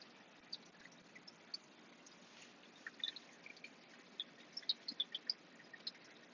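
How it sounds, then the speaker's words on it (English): Quiet, steady trickling water returning into an aquarium's return chamber, with scattered small drips and splashes popping out over a soft background hiss. "The water that you hear trickling is just from the fuse returning back to the return chamber"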